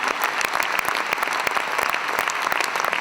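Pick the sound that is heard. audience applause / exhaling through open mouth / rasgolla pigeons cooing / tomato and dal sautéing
audience applause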